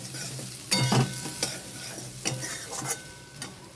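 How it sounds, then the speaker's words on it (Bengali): Ground spices, including coriander powder, are stirred in a hot frying pan, soft sizzling under a few distinct scraping strokes of the spoon, near and moderately loud, with no voices. "তারপর নাড়তে থাকবো"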